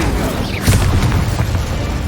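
A fire spell blast in a wizarding video game, a dull booming burst swelling near the middle of a short stretch of dense rumbling game noise, without speech.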